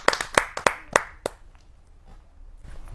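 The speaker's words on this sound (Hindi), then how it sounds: "आइए जोरदार तालियों से स्वागत करते हैं रेखा चौहान जी का।" At a patriotic poetry recital, a handful of sharp, separate hand claps ring out close by to welcome a poet, then quickly thin out into quiet room tone.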